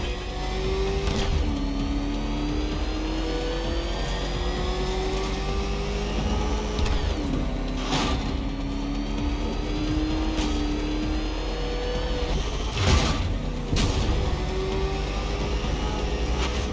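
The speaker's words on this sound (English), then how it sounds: "Can that ramshackle motor handle this?" Batmobile engine in Batman Arkham Knight revving steadily and loudly throughout, with rising and falling pitch sweeps as it accelerates, and a few sharp bursts and impacts over the continuous engine drone.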